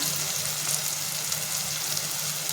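Asafoetida, turmeric, goda masala and chili powder fry in hot oil for a snake gourd bhaji, giving a steady, even sizzle throughout with no voices.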